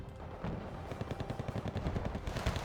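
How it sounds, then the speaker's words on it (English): Russian machine gun fire rattles in Wargame Red Dragon, a dense, rapid stream of bursts mixed with distant battle booms, steady and moderately loud with no talking. "the machine gun fire from the Russies here proved to be quite difficult to run by"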